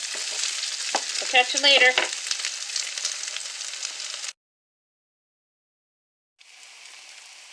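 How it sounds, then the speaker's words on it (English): Hash browns fry with a steady crackling sizzle and some stirring scrapes, a short phrase spoken over it; the sound cuts out to silence for two seconds, then a fainter hiss of frying returns. "Listen to that sizzle."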